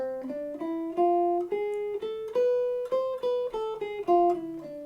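A guitar plays a run of single notes up and down an A harmonic minor scale, each note ringing clearly with a steady, unhurried rhythm.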